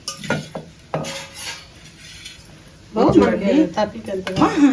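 A spoon clinks and scrapes while stirring rice flour batter in a boiling pot for vadiyalu. A few sharp clatters come first, then a person talks over softer stirring sounds.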